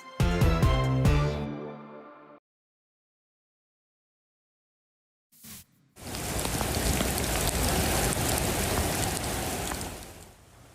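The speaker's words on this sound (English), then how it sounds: "In South Florida, torrential rain has caused flash flooding that officials describe as life-threatening in some places." Torrential rain pours steadily in South Florida amid life-threatening flash flooding, a loud, dense hiss of drops on surfaces running for about five seconds after a burst of music and a near-silent gap.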